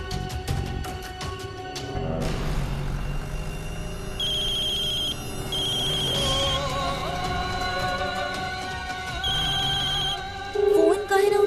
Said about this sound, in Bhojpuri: फोन काहे ना उठा रहल बाड़े मल्हार जी?